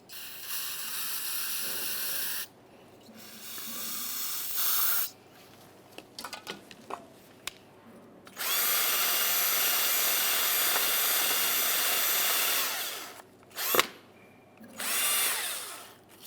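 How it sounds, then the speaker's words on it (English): Parts cleaner sprayed onto brake caliper slider pins over a collection bucket, in several long loud hissing bursts separated by pauses with small clicks and clatter. "use a little bit of parts cleaner and a bore brush."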